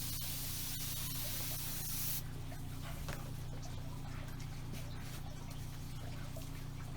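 A stiff garden hose sprays water onto fabric to soak it, a steady close hiss with a brief brighter burst at the start, running continuously without speech.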